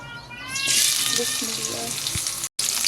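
Chopped onions hit hot oil in a wok, and a loud hiss of frying jumps up and carries on steadily close by, with a brief dropout near the end.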